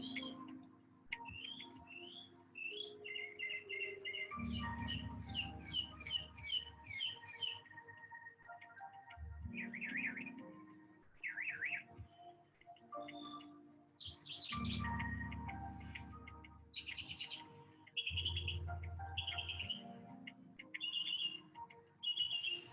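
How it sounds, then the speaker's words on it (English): Birds outdoors chirp and sing in repeated trilling phrases, clear and moderately close, over a low steady hum with occasional louder low rumbles and no talking. "Got some nice bird visitors making music."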